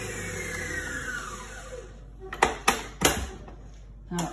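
An electric mixer whirs through cake batter, its motor pitch sliding down as it slows, then cuts out, followed by a few sharp knocks and clinks; a person speaks over it.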